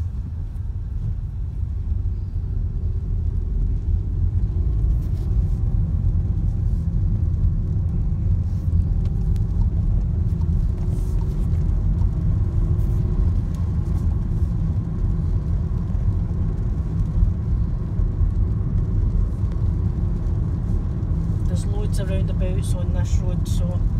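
A car drives along a road in the rain, a steady low engine and road rumble inside the cabin, with someone talking throughout.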